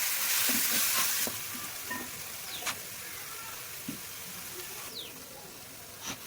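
Ripe banana pieces sauté in ghee over a medium flame for a payasam, giving a soft, steady frying hiss that is loudest at the start and fades a little, with a few light stirring clinks.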